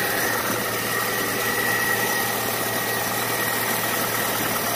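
A cheap used car's engine starting and idling while the steering wheel is turned side to side, giving a loud, steady mechanical drone with a constant low hum, heard alone throughout without talking.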